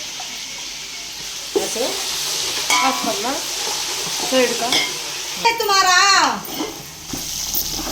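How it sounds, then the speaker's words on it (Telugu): Ginger garlic paste frying in ghee for pulao, a steady sizzle with stirring scrapes throughout, close and moderately loud, while a child and an adult talk over it. "అల్లం వెల్లుల్లి పేస్ట్ అయితే వేసేస్తున్నా. బాగా ఫ్రై అవ్వాలి."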